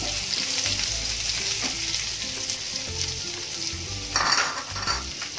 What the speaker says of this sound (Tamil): கருவேப்பில போட்டுக்கிறேன், இந்த சமயத்தில் வெங்காயம்